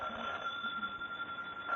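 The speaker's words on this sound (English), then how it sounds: "The telephone is ringing." A household telephone rings with a faint, steady electric tone that carries throughout and is heard alone.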